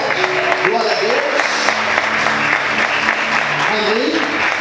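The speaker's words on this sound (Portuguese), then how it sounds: "Você pode aplaudir o Senhor bem forte?" A church congregation claps loudly for the Lord in a sustained burst of applause, while voices call out and speak over the clapping and rise and fall across it.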